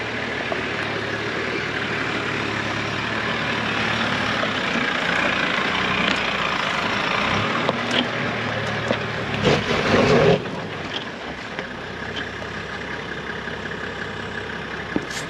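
A truck engine idles at steady low rumble before an off-road hill start, with scattered knocks and a short louder burst of mechanical clatter midway, then settling back to the even drone.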